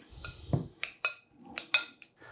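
Beef tartare is mixed with mayonnaise and salt in a dish, with a series of sharp metallic clinks and scrapes of utensil on the bowl, close and distinct, spaced unevenly, without speech.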